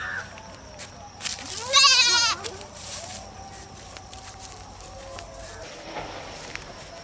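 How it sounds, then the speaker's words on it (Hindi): A young goat bleats in a short, wavering burst near the start, fairly close, then stops, leaving faint outdoor background noise and occasional rustling. "ई बकरी के बच्चा है"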